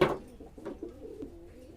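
Fancy pigeons in a loft give soft, low cooing calls, a brief near murmur of a few gentle coos over a quiet background.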